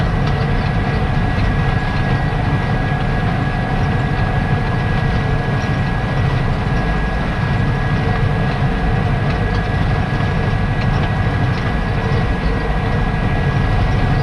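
A tractor-driven hay turner spins out cut grass in a field, making a loud, steady mechanical drone and rattle that continues throughout without pause.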